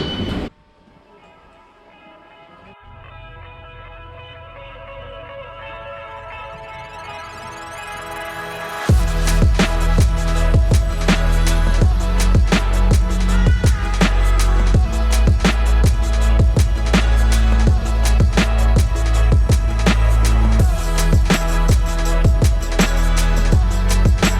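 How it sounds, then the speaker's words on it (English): A London Underground Tube train whines and builds speed, then roars loudly with rhythmic clattering wheels and screeches, continuous and close throughout. "Here we go, our first train."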